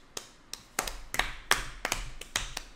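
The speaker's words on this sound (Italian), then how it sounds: "E qua solo applausi." Sparse hand clapping, about ten crisp, separate claps at an uneven, slow pace, close and fairly faint, with nothing else around them.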